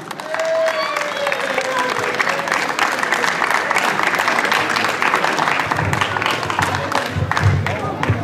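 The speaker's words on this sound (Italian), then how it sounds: "Adesso voglio un applauso, vince il gruppo N2000 Giovanni Pontorieri." An outdoor crowd applauds the N2000 class winner at a mini slalom rally event in Bagaladi, a sustained mix of clapping and cheering for about eight seconds, with a voice talking over it.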